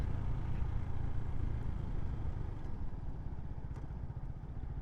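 A CSC SG250 cafe racer, a 250 cc beginner motorcycle, rumbles steadily while being ridden through city traffic, with a throbbing low engine note and wind noise and no talk.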